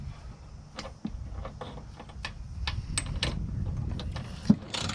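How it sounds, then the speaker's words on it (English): A wrench tightening a cam nut on a car's ball joint, producing a series of sharp metallic clicks and ratchet ticks over a low rumble, close and irregular. "we're just tightening up this cam nut here"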